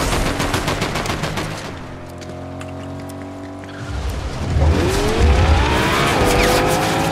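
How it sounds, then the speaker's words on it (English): Rapid bursts of gunfire aimed at a car's tire in Fortnite, loud and near, followed by a car engine droning and shifting pitch as it speeds away, then more overlapping shots and engine roar. "I'm shooting the tire at him."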